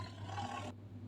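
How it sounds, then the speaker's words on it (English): A lion's roar rings out alone, a single loud, rough, sustained call that cuts off abruptly into near silence. "This is a lion."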